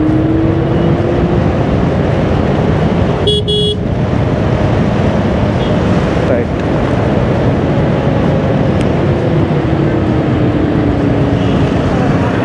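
A Simple One electric scooter is ridden at top speed, around 70 in ride mode, with loud, constant wind rush and road noise, and a brief horn toot early on.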